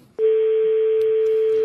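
A single steady electronic tone sounds for about one and a half seconds on a call to Lorraine's mobile phone, loud and clean, starting and stopping abruptly, with no voices.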